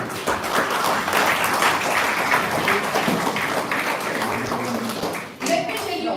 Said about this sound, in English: A big round of applause to all the children who participated.